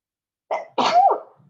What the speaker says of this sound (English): sorry guys, I sneezed there